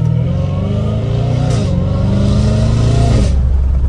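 A Dodge Hellcat Redeye V8 engine rumbles loudly and close, its steady throaty idle swelling into a couple of brief revs.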